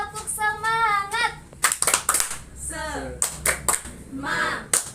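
Children in a microteaching classroom chant and clap a rhythmic cheer, with sharp hand claps bursting between sung voices and a teacher's voice leading the call.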